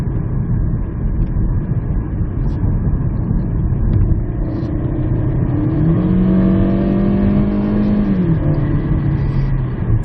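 Kia Stonic engine at full throttle inside the cabin, a steady low drone whose pitch rises around the middle, holds, then eases slightly, muted and continuous without talk.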